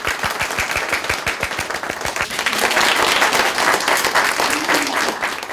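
An audience at a storytelling performance in Chile's Maule region claps, starting with sparse, distinct individual claps and swelling after a couple of seconds into fuller, sustained applause.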